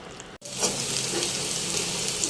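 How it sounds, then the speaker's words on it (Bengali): Oil sizzling steadily as a tempering (bagar) is fried for nihari, a continuous hiss that begins after a brief silent break and carries on evenly at moderate level, with no talking. "নলির জন্য বাগারটা রেডি করে ফেলছি"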